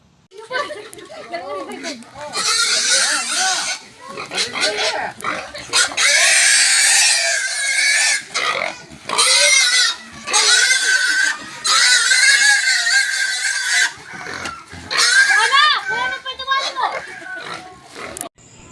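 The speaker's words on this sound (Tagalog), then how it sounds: "At ayan na nga po ang baboy ni Kabadi Makimoto." A 40-kilo pig oinking and squealing loudly in repeated bursts close by, with shrill harsh cries interrupted by short pauses and people chattering in the background.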